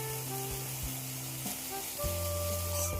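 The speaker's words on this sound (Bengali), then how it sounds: "এবার টক দই দেবো।" Katla fish masala sizzles steadily in a pan as sour yogurt goes in, with a low constant hiss, a faint hum and a few soft clinks.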